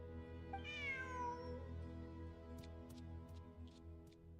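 Cat in the Genshin Impact video game gives a single rising-falling meow over a steady low hum, followed by faint soft ticking clicks.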